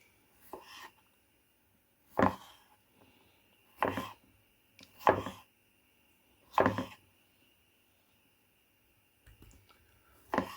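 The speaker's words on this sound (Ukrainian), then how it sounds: "Зараз покришу картопку. Дрібно кришити не буду." A knife chops potatoes coarsely on a board, giving about six sharp, separate strikes spaced a second or more apart against a quiet kitchen background.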